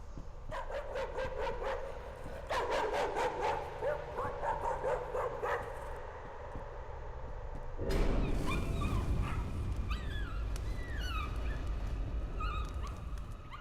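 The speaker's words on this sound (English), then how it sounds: "And that dog kind of had it coming. It shouldn't have been barking so much." A dog in the horror game Layers of Fear barks, yips and whimpers in repeated bursts over the first half, then a louder, denser sound takes over with bright chirping calls above a low rumble.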